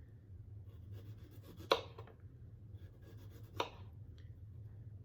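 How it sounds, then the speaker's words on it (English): A knife cuts peeled pears into thin slices on a board, giving two distinct crisp slicing strokes over a quiet background hum, close and fairly soft, with no voices. "And now I'm going to slice them up"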